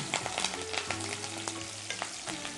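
Onion pieces and curry leaves frying in hot oil, a dense continuous crackling sizzle with quick stirring scrapes running throughout, close and fairly quiet, with no voices.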